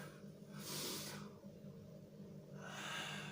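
During a stretch workout, two slow, soft breaths rise and fall a couple of seconds apart, faint and close, with a quiet hum underneath.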